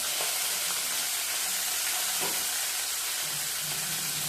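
Garlic cooks in hot oil in a pan while making bitter gourd sukka, giving a close, steady crackling sizzle with a few soft stirring knocks and no voices.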